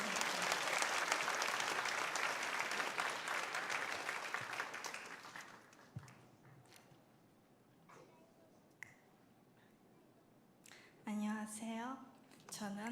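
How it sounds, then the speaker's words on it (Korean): A church congregation claps again, dense applause for about five seconds that fades out, followed by scattered quiet handling noises and someone speaking briefly near the end. "다시 한 박수 할까요?"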